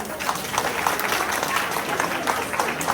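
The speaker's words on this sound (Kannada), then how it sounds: "ಶೀಲಾ ಶಂಕರ್ ಅವರಿಗೂ ಜೋರ ಚಪ್ಪಾಳೆ ಬರಲಿ" A crowd of listeners at a Basava Jayanthi 2024 kids' antakshari program gives enthusiastic applause, a dense, continuous wash of many hands clapping at close range for the whole stretch.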